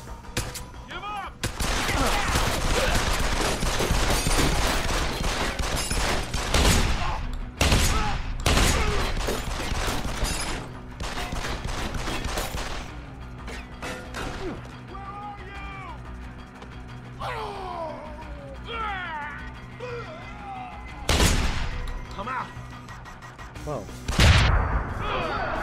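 Gunfire in Deus Ex: Human Revolution comes as loud broadband bursts spread through the scene, with mechanical clanks and a game voice between the shots.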